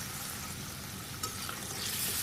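Pieces of omelette go into a curry pan and fry there, giving a steady, close, soft sizzle with a faint clink partway through and no talking.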